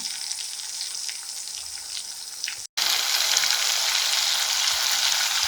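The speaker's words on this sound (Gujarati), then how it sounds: "હવે આપણે જે ગ્રેવી બનાવીને રાખી છે એને આપણે આની અંદર એડ કરી દઈશું." Gravy poured into a hot pan for rassa vada sets off a loud, steady sizzle that cuts out for a moment and then returns even stronger, with no voices.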